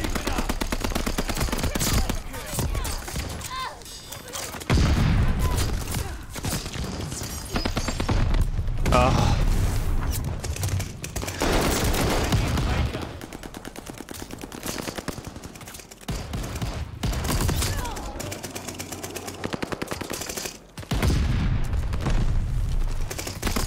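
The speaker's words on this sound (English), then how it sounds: "everyone I went to shoot got killed before I shot them" Gunfire in the Call of Duty Vanguard video game: dense bursts of automatic fire and booming shots, loud and nearly continuous, with a player talking over the action.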